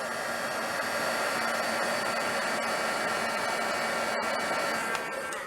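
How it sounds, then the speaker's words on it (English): Heat gun blowing hot air while shaping plastic, a steady loud rushing whoosh that holds continuously with only a brief dip near the end. "the heat gun"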